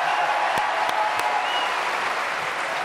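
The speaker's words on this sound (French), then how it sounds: "Applaudissements pour Patrice." Studio audience applause on a French television variety show, steady and dense for about three seconds with a few sharper claps standing out near the start.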